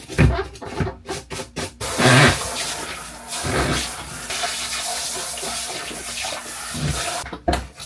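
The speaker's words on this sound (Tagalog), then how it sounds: "Saka ko na siya babanlawan ng maligamgam na tubig para matanggal din yung mga dumi din." Warm tap water runs into a sink as household items are rinsed clean in an apartment kitchen, a steady splashing rush broken by brief clattering handling sounds at the start and end.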